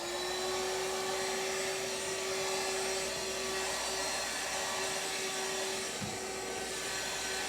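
A Goodmans cordless wet and dry handheld vacuum runs continuously on a stair carpet, a loud close steady motor whine with a droning tone and faint rubbing of the nozzle, no talking.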